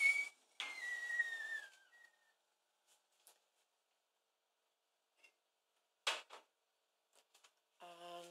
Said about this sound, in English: I can hear my kettle is whistling